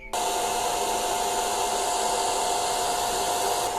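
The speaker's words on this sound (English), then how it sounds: "What brand of heat gun is this?" A heat gun, used while installing lights on an MR2, switches on and blows with a loud, steady, close airflow roar that holds unbroken for several seconds until it cuts off at the very end.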